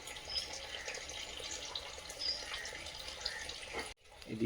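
Water pours steadily onto tulsi and china tagar plants during garden watering, a continuous splashing trickle at close range that cuts off abruptly near the end.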